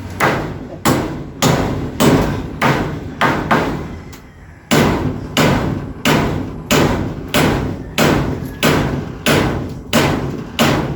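A hammer strikes in a steady run of loud, close blows during a kitchen renovation, each heavy thud fading quickly, with one brief pause partway through.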